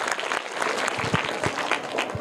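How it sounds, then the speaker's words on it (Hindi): Brief applause from an audience of children and adults cheering a child's correct quiz answer, a short burst of dense clapping at moderate distance. "जोरदार तालियां इनके लिए।"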